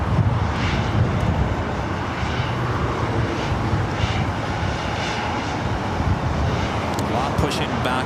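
A Boeing 787-8 Dreamliner or similar jet airliner at LAX's Tom Bradley terminal, with steady loud engine roar and rumble filling the whole stretch, no breaks, with faint background voices.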